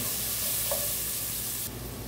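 Onion and crushed garlic frying in oil in a pan give a steady, close sizzle that holds evenly without pause, with no talking over it.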